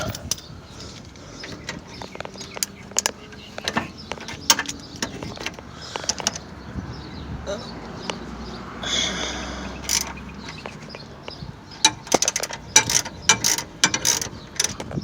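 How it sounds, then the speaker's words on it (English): A ratchet wrench clicks in bursts on the center link bolts of a 1993 Chevy S10 2.8 during steering work, close and sharp, with uneven rhythm and brief pauses, no talking. "Ratchet."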